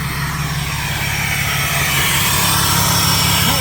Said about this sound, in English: Look at that exhaust. Sounds like a freaking jet engine.